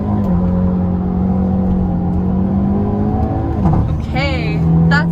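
A 2022 Hyundai Elantra N leaping off the line on launch control, engine revving hard and climbing through a gear change with a rising whine, loud and close from inside the cabin.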